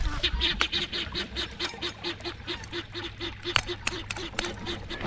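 Ducks quack repeatedly in a steady run of calls near a pond on a mountain farm, moderately close, over a low outdoor background with a few sharp clicks.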